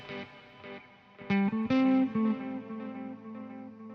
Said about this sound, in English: See, those delays are coming after the reverb on that for sure, because this is way before on the pedal chain.